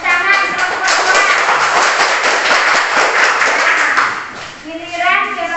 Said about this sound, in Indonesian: Tepuk tangan kelompok 2.